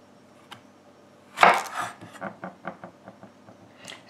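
A knife chopping a zucchini in half on a cutting board: one loud, scraping cut followed by a rapid run of about eight lighter, evenly spaced chops, close and clear with no talking.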